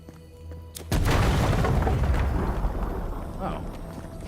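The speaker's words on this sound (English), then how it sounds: "Grenade." A grenade in Avowed detonates with a sudden loud boom, and a dense rumbling roar follows that stays heavy for several seconds as it slowly fades.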